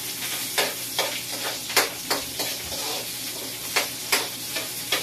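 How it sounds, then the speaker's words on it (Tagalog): Ginger, garlic, onion and lemongrass sautéing together in a pan, a constant close sizzle punctuated by regular spatula strikes against the pan roughly every half second, no speech. "Yung loya, bawang, sibuyas. Saka ito, tanglad. Sabay na yan guys. Igisa natin."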